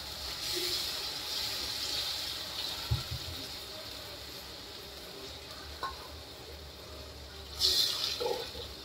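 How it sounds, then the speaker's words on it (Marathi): Hot water poured into a pan of frying bhagar (barnyard millet), a steady close sizzle with a few knocks, then a sharp hissing surge of steam near the end. "गरम पाणी टाकते मी।"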